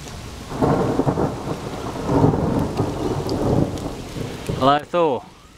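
Steady heavy rain with rumbling thunder building through, ending in a sharp, loud crack of thunder close by.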